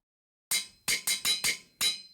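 A crafting hammer working metal rods in the modded Minecraft pack GregTech New Horizons: six sharp, bright metallic clanks in an uneven rhythm, close and clear after a short silence, with no talking.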